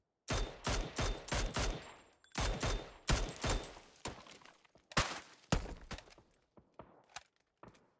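Gunfire in PUBG during a Nordic League esports match: repeated bursts of sharp shots, some in rapid clusters, then scattered single cracks that grow fainter and more spaced, heard from a distance with no talk over them.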